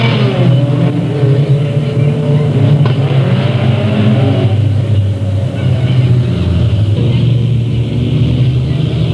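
Race cars circling the Delta Speedway oval, a dense continuous roar of several engines blending into a loud, steady rumble throughout with no clear breaks.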